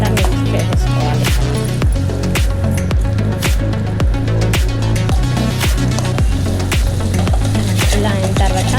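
Egg rice fries and is stirred in a pan, with loud, continuous sizzling broken by regular squishy scraping strokes at an even rhythm, close up.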